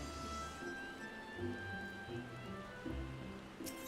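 Steady rainfall in the Final Fantasy XIV game world, a soft continuous patter with a low ambient hum beneath and a faint game tone running through it.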